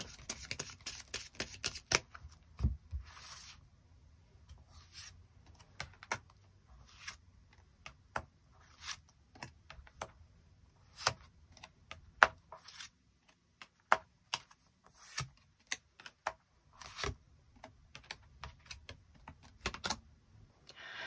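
Tarot cards are drawn and handled during a weekly love-and-work reading: soft papery clicks and slaps come in irregular bursts, close and fairly quiet, a dense flurry at the start and then scattered single snaps with no talking.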